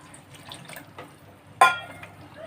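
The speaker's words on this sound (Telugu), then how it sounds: "ఇంకా కొంచెం వాటర్ యాడ్ చేస్తాను." Water poured into gram flour batter made with melted potato for a chickpea curry, a single brief splash in the middle of an otherwise quiet stretch with faint kitchen noise.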